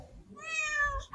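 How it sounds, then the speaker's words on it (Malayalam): A cat gives a single clear, drawn-out meow lasting under a second, close and alone, against quiet background. "മ്യാവൂ എന്നാണ് സൗണ്ട് ഉണ്ടാക്കുക അല്ലേ"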